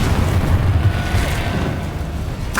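Confringo fire spell exploding in the Hogwarts Legacy video game, a loud, booming blast with a sustained low rumble and crackle that slowly decays, ending in a sharp burst.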